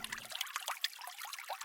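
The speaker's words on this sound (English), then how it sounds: "The water ripples gently." Water ripples gently in a forest creek at night, a soft, continuous trickle and burble that stays faint and steady throughout.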